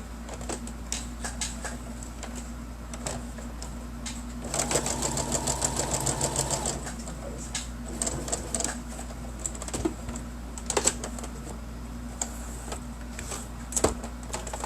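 A sewing machine stitches a fabric bookmark, with one steady two-second burst of rapid mechanical stitching over a constant low background hum and scattered small clicks.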